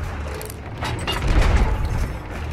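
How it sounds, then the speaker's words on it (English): Rumbling ship cannon booms and mechanical clatter from a video game during a Kraken encounter, a loud low thud swelling in the middle over steady background noise. "I'm loading up these other cannons."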